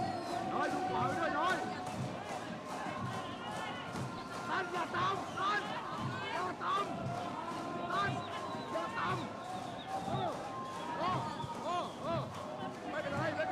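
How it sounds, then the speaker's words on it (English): Indonesian spectators at a football match of the IFCPF Asia-Oceania Cup, Indonesia against Thailand, roar and chant in a loud, sustained wash of crowd noise, with a commentator talking over it. "Just take this in from the Indonesian crowd"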